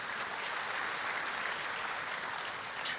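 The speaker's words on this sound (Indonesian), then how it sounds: "Tepuk tangan buat Tuhan Yesus." Church congregation applauding during a sermon, a steady wash of many hands clapping, fairly quiet and diffuse, as though heard from a distance in a large hall.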